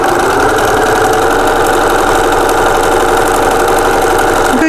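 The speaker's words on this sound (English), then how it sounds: "If you've got a walking foot, then it's a good time to get your walking foot out, and then you're literally going to stitch up those two sides." A sewing machine with a walking foot runs a seam up two sides of fabric for a one-piece wallet purse: a loud, steady motor hum holds unbroken throughout, with no voices.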